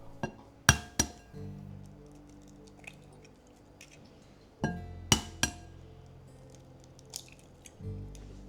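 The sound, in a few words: cracking eggs and beating them in a bowl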